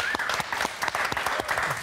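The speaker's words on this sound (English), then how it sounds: "Dr. Karl, big round of applause for him, please." A studio audience applauds as a guest scientist comes on for a TV segment, giving a short burst of sharp, lively clapping close to the microphones.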